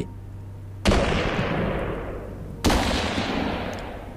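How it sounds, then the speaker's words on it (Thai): Two grenade blasts in a jungle battle scene of a Thai audio drama, each a sudden loud boom followed by a long rumbling decay, the second arriving about two seconds after the first. "เสียงระเบิดดังลั่นสนั่นป่า"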